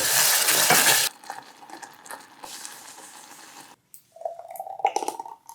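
Classic homemade BBQ sauce of ketchup, brown sugar, mustard, paprika, salt and pepper being mixed, opening with a loud rushing burst, then light scraping and clinking stirs, a brief pause and more close clattering stirs.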